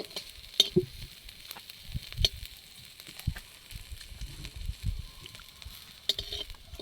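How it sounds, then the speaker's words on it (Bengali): Chopped onions frying in oil for a neem-leaf mashed potato dish, a soft steady sizzle with intermittent stirring scrapes and clatter, close by and without speech. "নিম পাতা দিয়ে আলু মাখা করার জন্য কিছু কুচনো পেঁয়াজ ভেজে নিচ্ছি"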